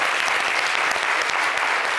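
A burst of enthusiastic applause from a TV studio audience, many hands clapping densely and evenly throughout.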